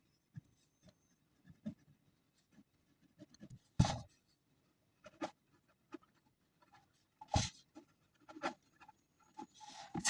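Marker or pen strokes putting equations on a board during a Bengali physics lesson on capacitance, sparse soft scratches and taps spread across the stretch with quiet gaps between them, fairly faint and without talk.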